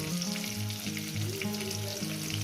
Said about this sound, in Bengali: আলুগুলো সুন্দর করে আমি লাল লাল করে ভেজে নেবো